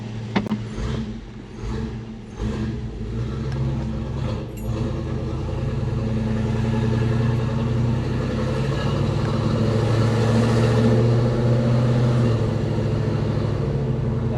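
A 1970 Chevelle engine idles and runs steadily up close through a Pypes 2.5-inch exhaust with a turbo muffler, a deep continuous exhaust rumble with some clatter early on, no talking.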